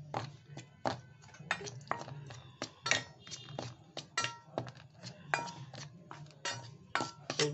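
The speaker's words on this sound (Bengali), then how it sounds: "আর এটা ধীরে ধীরে আমি এটা মিশিয়ে নেব ভালো করে" Flour, gram flour, turmeric and chili powder stirred together in a bowl, giving quick, irregular clinks and taps of a utensil against the bowl, close and fairly quiet.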